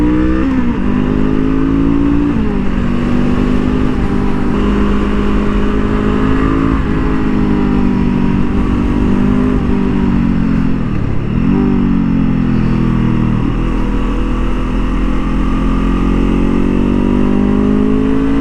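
A 2023 Honda CL 500 motorcycle rides a racing track, its engine droning loud and close without a break, the pitch rising and falling through gear changes with a brief dip in revs midway.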